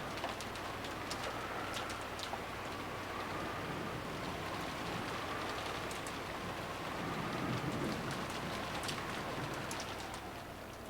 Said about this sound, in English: It disappeared beneath the sound of the rain.